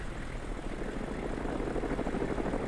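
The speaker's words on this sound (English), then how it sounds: "What a ballsy fucking helicopter." A helicopter flies in the Arma 2 video game, a continuous broadband rotor and engine roar that is steady and fairly loud, without talk.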